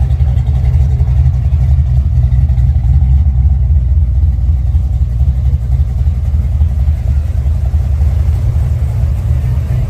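A race car engine on nitrous drones loudly and steadily at close range, a constant throaty rumble with slight fluctuations but no distinct rev peaks.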